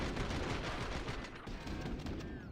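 A MAC-10 sprays automatic gunfire in a CS:GO match on the Overpass map, a dense, rapid rattle of shots running continuously at moderate loudness, with no voices over it.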